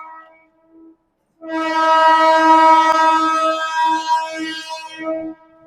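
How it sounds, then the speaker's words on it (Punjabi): A passenger train horn blares at a station as the train arrives, in a long, steady, loud blast with a couple of shorter toots at the end, after a brief quiet start. "ਆ ਗਈ ਸਾਡੀ ਟ੍ਰੇਨ ਉਧਰ ਆ ਗਈ ਨਾ ਟ੍ਰੇਨ"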